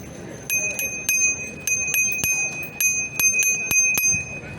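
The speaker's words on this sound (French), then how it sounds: "t'as pu goûter la sonnette?" Bicycle bell on a DYU A1F folding electric bike, rung repeatedly in quick bright dings and short trills while riding outdoors through a London square, close and clear over faint street background.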